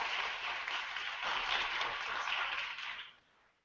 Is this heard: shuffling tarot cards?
no